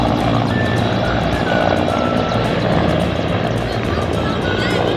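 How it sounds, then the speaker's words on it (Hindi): Prime Minister Modi's helicopter departs from a rally in Madhubani, its rotor and engine giving a continuous loud roar mixed with crowd noise and voices. "मोदी जी का हेलीकॉप्टर अभी जा रहा है।"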